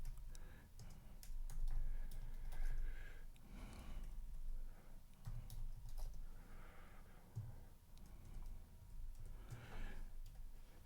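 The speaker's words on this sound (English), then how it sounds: "let me type this in really quick" A computer keyboard clatters with quick, uneven bursts of keystrokes, close by and moderately loud over a steady background hum.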